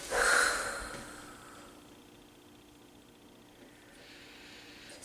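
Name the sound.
exhaling breath during core exercise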